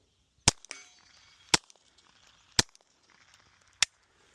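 Four sharp, isolated shots spaced about a second apart from a pistol fitted with a JK Armament 105 CCX suppressor firing Federal subsonic ammunition, each a crisp close crack with a short tail and quiet between.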